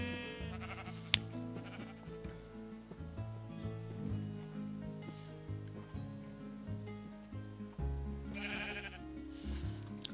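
Sheep in the Minecraft video game bleat repeatedly, their wavering tonal cries overlapping and recurring through the stretch, some close and loud, with sparse background game sounds.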